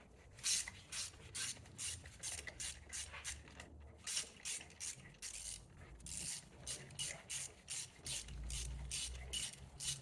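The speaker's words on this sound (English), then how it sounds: "now we need to remove the spark plugs and either a 5/8 or your equivalent 16 mil to be able to get these out" A ratchet with a 5/8-inch (16 mm) socket loosening spark plugs on a BMW X3 F25, producing a steady run of rapid, close clicking pawl strokes in short bursts, with brief pauses.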